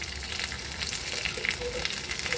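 Curry leaves and green chillies sizzle steadily in hot oil for an egg masala, a continuous crackling fry with no voices over it.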